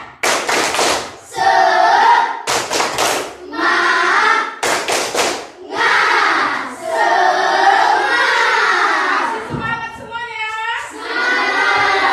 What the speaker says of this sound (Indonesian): Sekali lagi tepuk semangat.